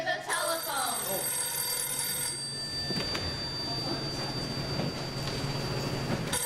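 A telephone rings during a live stage musical show, its bell trilling steadily through the first few seconds and continuing in softer bursts amid theatre room noise and a low background rumble.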